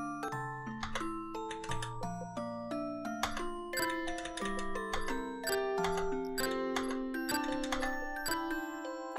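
Melodic chime notes of Jingle Bells picked out one at a time in a Japanese indie Christmas video game, bright bell-like tones in a steady, slightly halting sequence, moderately loud with no voices.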